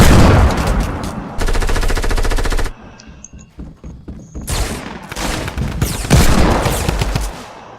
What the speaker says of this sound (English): Where's this guy firing from?